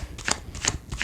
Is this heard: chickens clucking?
no